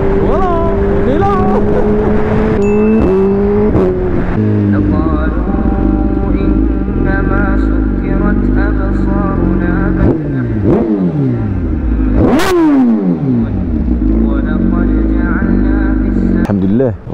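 A motorcycle engine revs loudly and close over a continuous running drone, its pitch climbing and dropping through repeated throttle blips and gear changes, with a sharp rise near the end.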